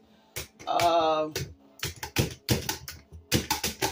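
Celery is chopped on a cutting board in a run of sharp, irregular knife strikes, close and crisp, with a short stretch of talking in between.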